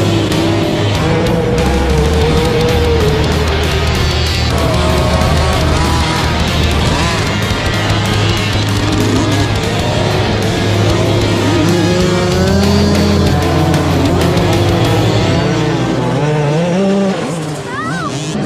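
A pack of Polini pit bike motorcycles, one ridden without a rear brake, revs and roars off a race start, engines whining and rising in pitch continuously and loudly, blending into a dense close-up drone.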